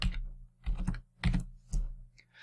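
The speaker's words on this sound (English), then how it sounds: "So that's typing in some source code." Source code is typed on a computer keyboard in four close, distinct bursts of rapid key clicks separated by short pauses, with no talk.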